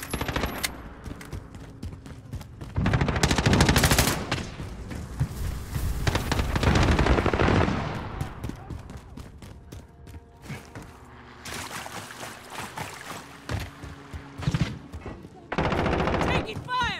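Heavy automatic gunfire crackles in bursts during Call of Duty: Modern Warfare multiplayer with an MP7, loud and close. Long volleys alternate with quieter gaps, and a few isolated shots fall in between.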